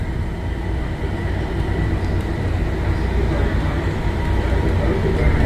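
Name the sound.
train passing by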